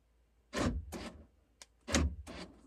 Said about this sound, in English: so our lock cycled